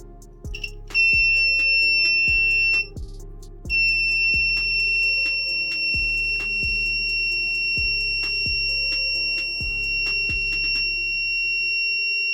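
A homemade transistor trip-wire alarm sounds with a loud, steady electronic tone, briefly cutting out once before resuming, over a repeating low pulsing pattern, with no talk.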